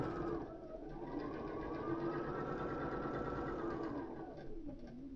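A sewing machine runs in one steady, close burst, stitching the seams of a quilt block, its rapid needle chatter continuous for several seconds before slowing to a stop.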